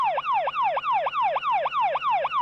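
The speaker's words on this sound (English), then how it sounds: "Someone please just confirm if you can hear the sound of the ambulance." A passing ambulance sounds a loud, fast yelp siren, each rising-and-falling wail repeating about four times a second in a steady, unbroken cycle.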